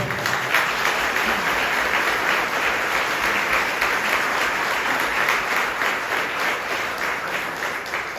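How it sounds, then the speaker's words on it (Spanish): Sustained applause from a congregation at a church Mass, a dense, even wash of many hands clapping that holds steady and loud throughout, with no voices standing out. "Vamos a brindarle un fuerte aplauso."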